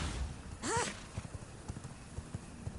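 Horse hooves clip-clop in an even walking rhythm in the V Rising video game, preceded by a short whinny-like call, all fairly quiet.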